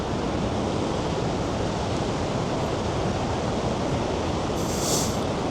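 Steady, dense rushing of water at Vøringsfossen waterfall in Norway, a continuous loud roar with no breaks, heard alone from close by.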